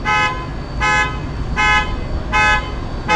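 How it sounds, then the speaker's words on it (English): A car alarm blares in a repeating pattern, loud horn-like toots pulsing roughly every three-quarters of a second, close by and with no talking. "when you get out of the car and hit somebody else's car and set off their alarm"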